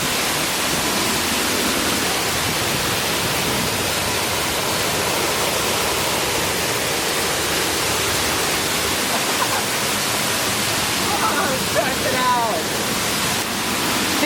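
Steady, loud rushing water roars throughout, a dense broadband wash like a nearby waterfall, with no pauses or changes in level.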